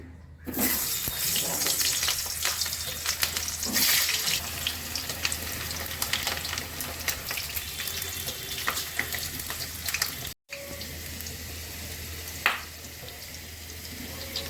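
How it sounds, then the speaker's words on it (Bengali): Potatoes frying in mustard oil in a home kitchen, a steady dense crackle and sizzle close by with a brief break near the end and no talking. "এটা সর্ষের তেলে হবে। আলু ভেজে নিচ্ছি।"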